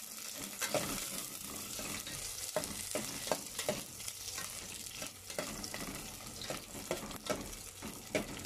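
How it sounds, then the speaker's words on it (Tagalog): Ginger and onion frying in a pan, a steady close sizzle with occasional stirring scrapes and clinks over it, no talking. "Luto natin ang ating luya."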